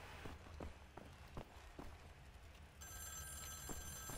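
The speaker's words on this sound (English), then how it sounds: "Wait, can I hear a phone ringing?" A telephone rings in Wolfenstein The New Order, a faint bell tone starting partway through, heard under soft, evenly spaced footsteps in a quiet game interior.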